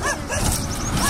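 Dogs bark and scuffle on a morning walk in Delhi, a loud, close, chaotic tangle of yips and growling barks mixed with street noise, with no pause across the whole stretch.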